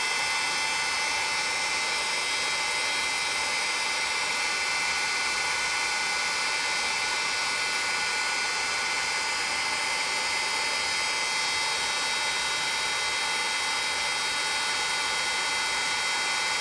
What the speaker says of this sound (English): So now we're just going to heat emboss it.